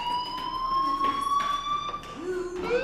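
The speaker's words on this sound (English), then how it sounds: "Hey, do you hear that fire alarm?" A fire alarm in the video game Life Is Strange gives off a loud, steady electronic tone that holds a high pitch, then sweeps upward near the end, sounding continuously throughout.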